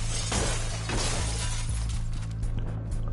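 Glass shattering in the Battlefield Hardline video game, a bright crash of breaking panes that rings on over a steady low game drone, with loud fragments scattering through the whole short stretch.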